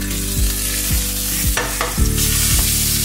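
Salmon pan-seared in a frying pan gives a loud, constant close-up sizzle, broken by several clattering scrapes and bumps from the pan or utensil.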